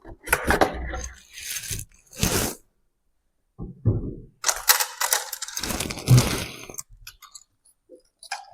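A boxed Mercedes-Benz 500K scale model is unpacked with bursts of cardboard scraping, tapping and rustling up close, broken by short quiet gaps.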